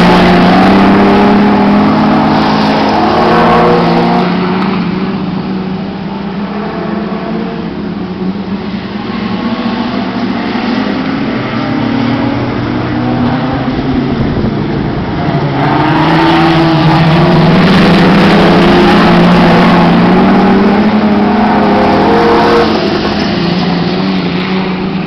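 Production race cars in a ladies' race on a circuit at Kaikohe, engines droning steadily at a distance throughout, swelling and fading as cars pass, with no talk over them.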